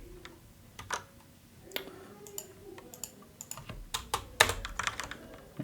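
Typing Python code on a computer keyboard: uneven bursts of close key clicks and taps, getting busier and louder toward the end, with no voices.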